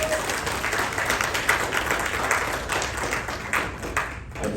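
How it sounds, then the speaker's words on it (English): Loud applause from a sizeable audience at a business leaders meeting in India, dense clapping that holds strong throughout with a slight dip toward the end. "Let's give a big round of applause for Liew for that"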